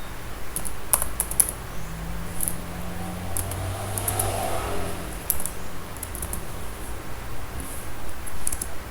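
Soft keyboard taps clatter in short runs over a low background hum, fairly close, with a few louder keystrokes scattered through.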